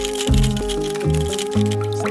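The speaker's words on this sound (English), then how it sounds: "then I dump the plaster into the water, letting it to dissolve away" Hot plaster mold from garage sand casting dumped into water and dissolving, giving soft wet squishing, dripping and gurgling sounds in a few pulses over a steady tonal backing.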